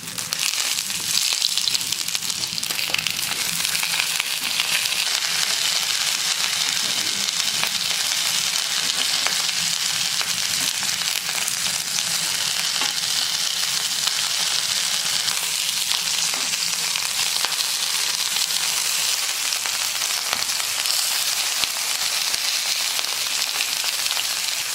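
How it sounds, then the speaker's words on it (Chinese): Homemade pork sausage pan-fries in oil in a flat pan, giving an even, unbroken sizzle with fine crackling that stays close and steady the whole way, with no talking. "下入肉肠煎"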